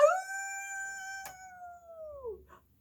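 A storyteller's voice imitates a wolf's howl in a children's tale: one long, clear, rising-then-falling howl that trails off into silence.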